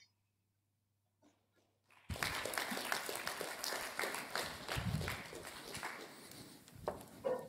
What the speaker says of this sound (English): You got a big applause from the audience here.